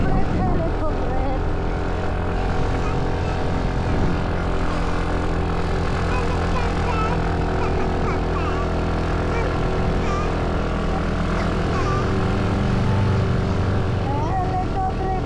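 A helicopter passes overhead above a village, its steady rotor and engine drone loud and continuous throughout, with people talking nearby under the noise.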